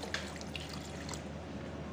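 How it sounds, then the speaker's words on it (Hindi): Water poured into a pan of cooking mutton qeema with salt and turmeric, a steady splashing trickle with a few brighter drips, close and continuous for about two seconds. "और थोड़ा सा हम पानी ऐड करेंगे"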